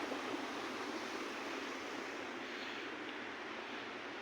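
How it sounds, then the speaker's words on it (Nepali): Overflow water pouring out through a pipe at a rural village home, a continuous close rushing hiss that holds steady throughout, no one talking. "यो चाहिँ ओभरफ्लोको पानी हो."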